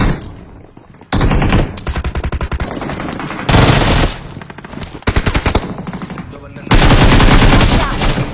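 Intense automatic gunfire erupts in a battle royale video game squad fight, with loud rapid bursts that stop and restart several times across a sustained exchange.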